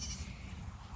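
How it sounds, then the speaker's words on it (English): Goats bleating outdoors on an Ozarks farm near a berry patch, a steady close murmur of animal calls and rustling filling the one-second moment without speech. "Oh, damn goats."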